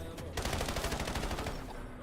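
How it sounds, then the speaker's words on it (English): Call of Duty gunfire, a sustained burst of rapid automatic shots rattling steadily for well over a second at close range, then trailing off. "Shots."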